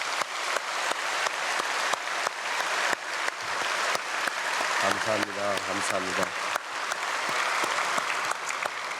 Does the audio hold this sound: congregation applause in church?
yes